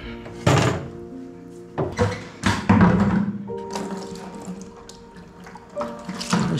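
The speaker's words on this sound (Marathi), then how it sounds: "अशा प्रकारे आपण पाणी भरू शकतोय." Water is filled into a vessel for washing dishes, with hollow thunks and knocks from the container and a running, gurgling pour between them, close and fairly loud.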